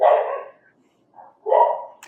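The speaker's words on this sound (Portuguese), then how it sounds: "Agora tem um cachorro." A dog barks twice nearby, a short sharp bark, a pause, then a faint yip followed by another bark.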